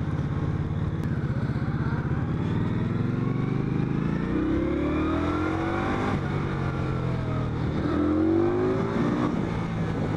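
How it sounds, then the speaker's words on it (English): An Indian Scout motorcycle engine revs hard through mid to high RPM, a steady loud growl rising and falling in pitch as it pulls through the gear, with rushing wind noise and no talking. "That bike is alive in these mid to higher RPMs."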